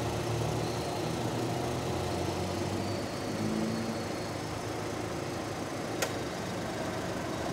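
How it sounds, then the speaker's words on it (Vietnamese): A 2008 Gentra car engine idles smoothly and quietly at close range, a steady low hum with no speech over it. "Máy êm là cô chú anh chị. Máy rất là êm nha."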